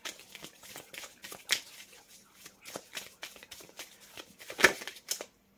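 Oracle cards drawn and laid out for a Capricorn reading, making soft close slides, flicks and papery taps at an irregular pace, with one sharper card snap near the end and no talking.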